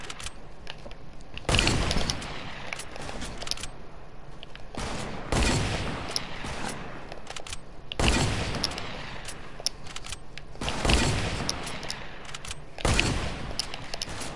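Bursts of video game gunfire fire in five loud volleys of a second or so each, spaced a few seconds apart, with a steady lower layer of game noise running between them.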